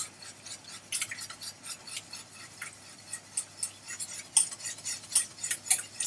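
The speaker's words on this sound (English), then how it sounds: "add the rest of the milk, and stir gently until it's combined" A spoon stirs milk into white sauce in a pan, giving irregular light scraping and clinking strokes, close and fairly quiet, with no voices.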